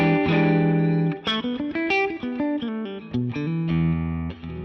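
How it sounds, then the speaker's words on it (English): Electric guitar through a Dr. Z M12 amp plays a short series of picked notes and chords, each ringing then cut, with brief gaps between phrases. "So, clean tone sounds like this."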